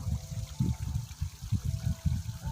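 Water from a small waterfall feature at a cafe trickles and splashes softly in an uneven, continuous patter, faint and close, with no talking.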